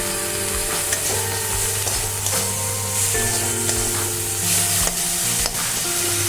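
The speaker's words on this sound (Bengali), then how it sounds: "নাড়াচাড়া করে তারপর আমি এতে ঢেঁকি শাকটা কেটে রেখেছিলাম সেটা আমি অ্যাড করে দেব।" Chopped dhenki shak (fiddlehead fern greens) stirred as they fry in a pan with turmeric for a lentil chorchori, a steady loud sizzle broken by repeated scraping strokes of the spoon, with no talking.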